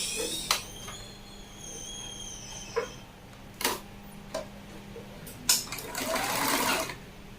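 A sewing machine stitches satin fabric for a V-neck bubu dress, its faint steady hum broken by several sharp clicks and taps, then a louder whirring burst of stitching near the end, with no voices.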